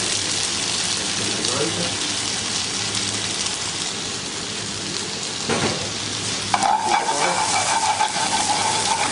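Butter, chopped garlic and parsley sizzling in a hot pan, a steady loud frying hiss with stirring, swelling brighter near the end as more goes in; a voice talks over it.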